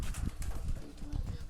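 Domestic pigeons coo softly at close range in a loft, low rhythmic throaty coos rising and falling repeatedly against faint background rustle.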